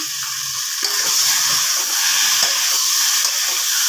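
Green chillies fry in a hot pan, giving a close, steady sizzle and hiss that runs unbroken throughout, with faint stirring clicks underneath.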